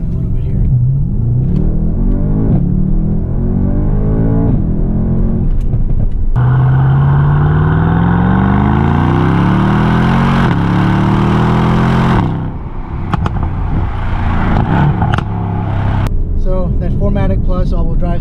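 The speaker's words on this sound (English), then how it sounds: "I've got the exhaust valves open right now. Let's get on it a little bit here." A powerful AMG S63 Cabriolet engine with exhaust valves open rumbles deep and steady, rising in pitch as it accelerates through gears, with someone talking over it.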